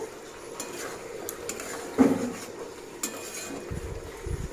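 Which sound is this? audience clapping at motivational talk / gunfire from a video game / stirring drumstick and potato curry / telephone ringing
stirring drumstick and potato curry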